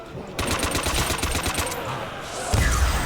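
Rapid M1 Carbine shots from World at War Zombies ring out in a quick, steady burst, loud and close, then give way to a heavier thump near the end.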